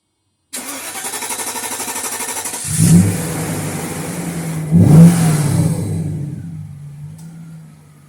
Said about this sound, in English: I'm going to fire this car up and see what we got